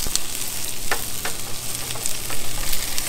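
Asparagus and other vegetables fry in a pan over an outdoor fire, giving a steady, close crackling sizzle with occasional sharper pops throughout and no talking.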